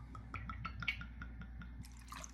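Three Olives cherry vodka is poured over ice, giving a quiet run of close dripping and trickling. A few faint crackles and clinks follow near the end.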